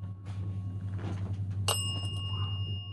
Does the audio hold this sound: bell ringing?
yes